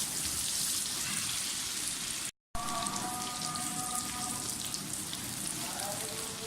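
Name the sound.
onions frying in a pan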